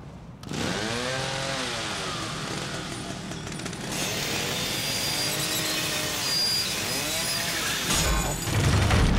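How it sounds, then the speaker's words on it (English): Chainsaw fitted with a wood cutting chain in The Evil Within, revving loudly with rising and falling engine pitch sweeps, close and harsh, ending in a heavier burst. "This chainsaw has a wood cutting chain on it"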